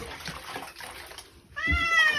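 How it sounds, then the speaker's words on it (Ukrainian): A pet cat being bathed in warm water lets out a loud, close meow near the end, following a stretch of quieter splashing and handling noise. "Наш котик доволі нормально переніс купання тому що він купався в теплій водичці"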